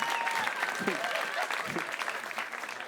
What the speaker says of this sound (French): Et ça applaudi.